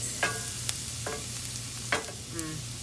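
Onions and celery sauté in a hot pan as stuffing for a whole roasted chicken, giving a steady low sizzle broken by a few short scraping stirs of a utensil.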